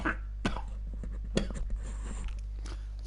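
A football commentator coughs and clears his throat during a Manchester United versus Burnley Premier League match, with a few sharp, close bursts over a steady low hum.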